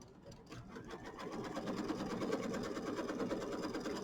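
A sewing machine stitches the quilting on a small Kimberbell mini quilt, running at a steady rapid rhythm that speeds up slightly after a softer start, fairly quiet and heard without any talk.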